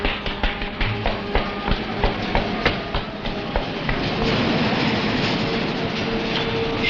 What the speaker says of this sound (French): Il vient de sortir de l'immeuble et a pris le métro.